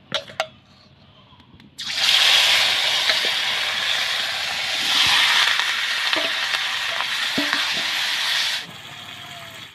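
Marinated small potatoes for a spicy potato curry drop into a hot wok, setting off a loud, broad frying hiss that holds steady for several seconds, with a few faint clinks of stirring before it cuts off.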